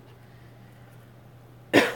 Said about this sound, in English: I do apologize for coughing